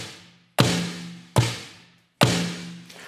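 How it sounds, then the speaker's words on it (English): Yamaha DTX6 electronic snare and rim retuned all the way down give three deep, thuddy hits with long decaying tails, spaced evenly, close and alone. "I'm going to retune it all the way down, and both the head and the rim sound like this now"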